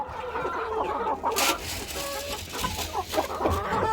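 Pavlovskaya chickens clucking while eating breakfast in a poultry yard, a near, busy stream of overlapping clucks and short calls with no talk.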